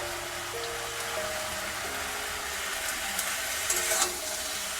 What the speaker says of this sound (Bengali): গ্যাসের ফ্লেমটা লোতে রেখে আমি সমস্ত উপকরণগুলি একটু নেড়েচেড়ে আস্তে আস্তে ভেজে নেব